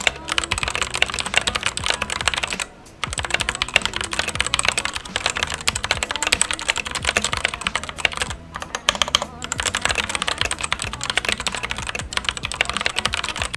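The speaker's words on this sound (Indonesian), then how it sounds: "kenapa suaranya juga ikut-ikutan jelek gitu loh. Kayak nothing special dari keyboard yang memiliki berbagai fitur bagus ini" Fast, continuous typing on a Vortexseries VX5 Pro mechanical keyboard fitted with foam, producing dense clattering keystrokes close up with only a couple of brief pauses.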